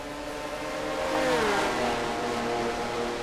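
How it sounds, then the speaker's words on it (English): Stock race car engines from a racing video game, including the number 3 Goodwrench Chevy, drone in a pack. One engine's whine swells and shifts pitch as it passes mid-clip, with no talk over it. "Here comes Deaver to the low side, car number 3, the Goodwrench Chevy."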